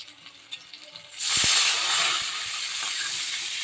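Water poured into a hot pan of frying ginger, chilli and spices for paneer pulao: a sudden loud steamy hiss and sizzle erupts after quiet kitchen sounds, then settles into a steady, slightly softer bubbling hiss.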